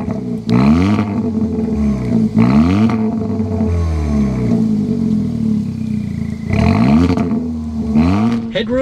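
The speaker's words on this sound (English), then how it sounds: "start up this Turbo 4 so you can hear that exhaust note." A 2024 Kia Forte GT turbo four-cylinder runs with a strong, throaty exhaust note, rising in repeated revving swells that climb and fall several times, loud and close, with no one talking over it.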